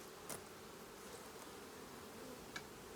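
Bees hum in a soft, steady drone around an open hive during inspection, with a couple of faint brief knocks and no voices.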